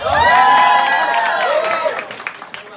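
A loud crowd at a Pride kick-off event at the Stonewall Inn cheers and whoops with some clapping, the shouting rising at first and then fading over a couple of seconds.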